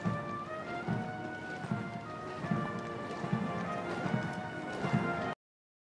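Horses' hooves clip-clop in a steady, rhythmic series at a state funeral procession with a drum horse, loud and continuous over a low murmur of crowd noise.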